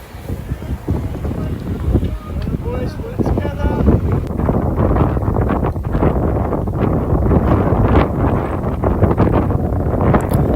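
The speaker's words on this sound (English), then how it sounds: "It was also quite a windy day" Strong wind buffets the microphone during a bike race around Castle Combe, making a continuous loud rumbling roar with gusty surges. A voice talks underneath.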